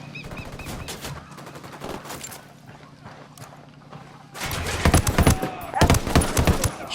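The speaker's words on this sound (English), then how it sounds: "Open fire." Gunfire bursts in the video game Ghost Recon Wildlands, steady rapid rattling for several seconds that grows louder and denser partway through, with heavy close shots and mixed battlefield noise.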